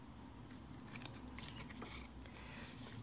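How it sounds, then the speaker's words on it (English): Scissors cut straight across card stock between two marked corners while making a stamped tag card. The snips are faint and soft, with a few light cutting clicks over quiet room noise and no talking. "all I'm going to do is just take my scissors and just cut across"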